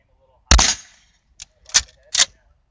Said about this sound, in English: is shooting the Black Widow shorties in the 12 gauge on a Remington 870